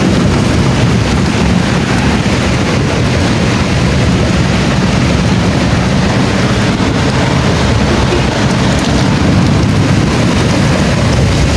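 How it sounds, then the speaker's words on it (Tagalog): Heavy rain pours down in a loud, dense, unbroken roar for over ten seconds, with no pauses and no voices. "Grabe, lakas talaga ng ulan"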